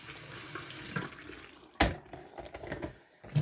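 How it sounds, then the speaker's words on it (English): Tap water runs into a kitchen sink as blackberries are rinsed, a steady splashing stream with a sharp louder gush partway through, then continued uneven trickling and splashing. "And just give them a rinse because we don't want the smell of the vinegar."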